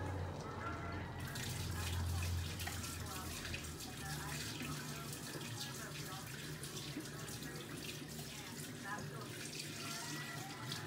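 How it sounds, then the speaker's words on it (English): Kitchen tap water runs steadily into a sink while scallions are rinsed, a continuous close hiss and splash with faint handling noises and no pauses throughout. "Let me wash these."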